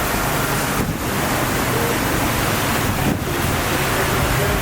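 Heavy tropical downpour on Maafushi Island in the Maldives, drumming steadily over a construction site where people shelter, a dense, loud, unbroken hiss of rain with no voices.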